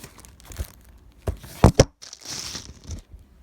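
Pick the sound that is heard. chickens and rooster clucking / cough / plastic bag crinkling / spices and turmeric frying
plastic bag crinkling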